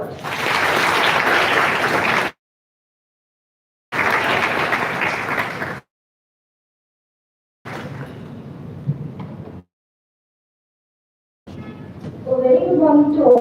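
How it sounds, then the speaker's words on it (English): A student induction programme audience applauds a speaker in several bursts of clapping, with silent gaps between them and faint voices toward the end. "Give a big round of applause."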